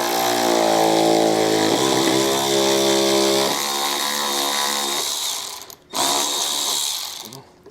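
Power tool whirring steadily at close range while removing a 10mm bolt that holds the wheel well liner to the skid plate on a 2015 Jeep, its pitch sagging and winding down before a brief second burst.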